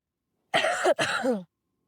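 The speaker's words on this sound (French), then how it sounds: "Si ça tousse comme moi" Two close coughs in quick succession, loud and near, heard alone with silence on either side during a gentle yoga class.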